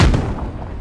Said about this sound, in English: Onward we go with our mighty cannon.